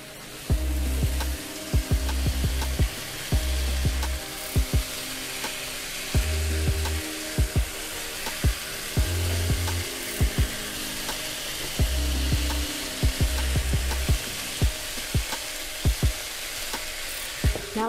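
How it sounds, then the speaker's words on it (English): Oxtail browning with soy sauce in a pot sizzles loudly and continuously, with repeated clanks and scrapes of stirring and low thumps of the pot shifting on the burner. "Now let's go ahead and give this a stir."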